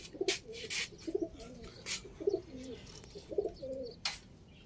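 Pigeons coo softly in a loose rhythm of about four low, throaty phrases, with sharp wingbeats and flapping bursts against a steady background hiss, no voices.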